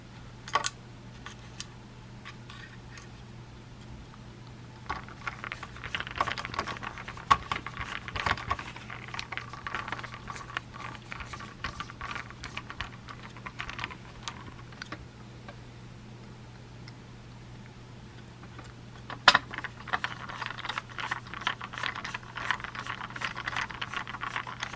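Small screws being driven into the replacement fan of a Gigabyte GTX 1070 Ti Windforce graphics card give faint, scattered ticks, light rattles and scraping clicks, close up and intermittent, with short louder taps among quieter stretches.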